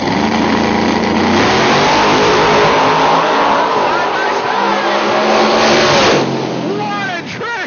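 Drag racing cars at a Holly Springs, Mississippi spring shootout, a blue Mustang against a nitrous-powered hot rod, roar under full throttle. The sustained engine noise is loud and close, then drops away near the end as gears shift and the cars pull off.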